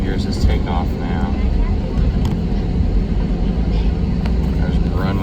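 Frontier Airlines A320neo jet engines spooling up for takeoff on runway 27, heard from inside the cabin as a loud, steady low roar that fills the whole stretch, with faint voices beneath.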